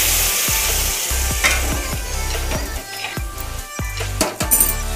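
Bitter gourd frying in a pan as water is added, a steady close sizzle with rhythmic stirring scrapes and light clinks of a utensil.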